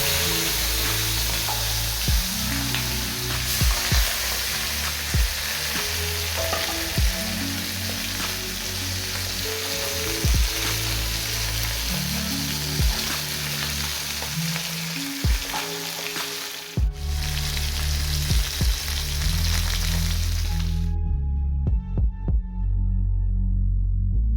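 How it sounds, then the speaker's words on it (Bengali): Fish pieces fry one at a time in hot oil in a kadai-style wok, giving a loud, steady sizzle with soft crackles and pops that runs throughout and cuts off abruptly near the end. No one speaks. "একটি একটি করে আমি এবার মাছগুলোকে ভেজে নেব।"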